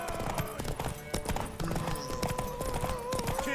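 Horse hooves clip-clop in an open world RPG video game, quick irregular hoofbeats with a whinny and game music running underneath, moderately loud and close.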